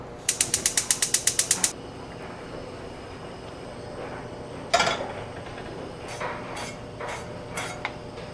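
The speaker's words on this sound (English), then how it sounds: "So I'm going to turn the heat on from the stove" A stove is switched on: a quick run of about ten sharp mechanical clicks, then quiet, then a sudden louder burst followed by a few scattered softer clicks and knocks.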